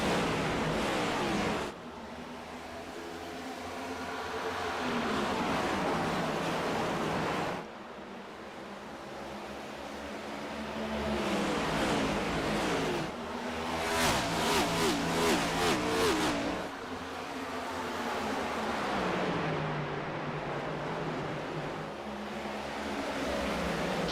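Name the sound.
race cars driving on Dover Motor Speedway in iNASCAR sim racing video game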